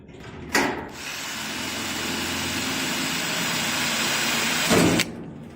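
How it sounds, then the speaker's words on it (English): A rivet drill bores a pilot hole through a camper trailer bar, a steady loud whirring grind running for about four seconds between sharp bursts at start-up and as the bit breaks through. "He's used a rivet drill to put a pilot hole in first before he does the full size hole."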